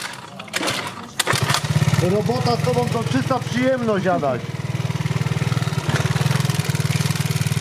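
A scooter engine catches at once and settles into a loud, steady buzzing idle close by, with someone talking over the running motor.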